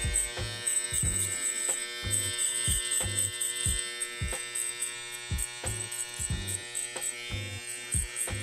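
Electric hair clippers buzzing steadily up close while cutting a taper haircut, with a constant motor drone punctuated by regular soft thumps and rustles as the blade moves through hair, and no voices.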